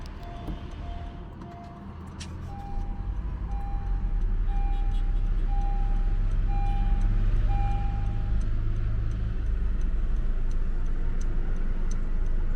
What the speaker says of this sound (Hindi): मैं आपको इसका स्टार्टअप भी दिखा देता हूँ